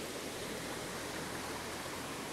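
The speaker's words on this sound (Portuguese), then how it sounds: "E o riachozinho da Cachoeira das Antas segue." A small stream flows near the Cachoeira das Antas waterfall in the Brazilian highlands, making a steady, even rush of water. It is moderately faint and continuous, with no voices.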